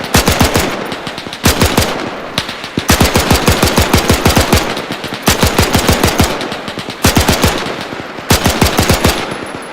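Machine gun fire in the video game Arma 3, loud rapid bursts of several seconds each separated by short pauses, close and sharp with no talk.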